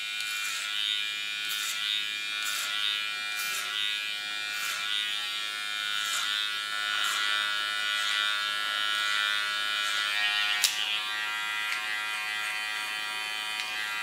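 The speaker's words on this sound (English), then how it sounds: "Use my clipper as a comb." Electric hair clipper buzzing steadily while cutting a short zebra-style hairstyle, a continuous close motor whine with brief strokes and small clicks, no talking.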